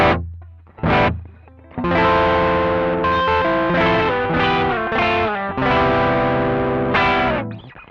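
A distorted electric guitar through an Ibanez TS9 Tube Screamer overdrive pedal, tone turned down, plays chords and short stabs with a darker, somewhat muffled tone, the notes sustaining loudly before fading at the end.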